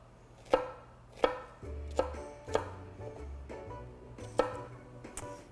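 An onion is cut with a knife on a cutting board, with about six sharp, evenly spaced chops over a low background hum.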